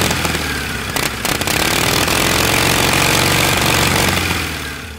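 A 1912 Indian single-cylinder board track racer motorcycle engine running close and loud, a fast, rough, rattling drone that holds steady and then fades near the end.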